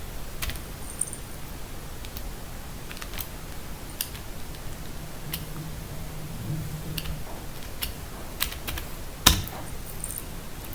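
Code typed on a computer keyboard, quiet scattered key clicks at an irregular pace with a few sharper taps, one louder keystroke near the end, over low room noise.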